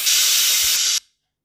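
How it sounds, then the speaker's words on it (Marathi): A pressure cooker on a gas stove, cooking masala khichdi, lets out a loud, steady hiss of escaping steam for about a second, then cuts off abruptly into silence. "कुकरच्या 3 शिट्ट्या होईपर्यंत आपल्याला गॅसवरती ठेवायचं आहे"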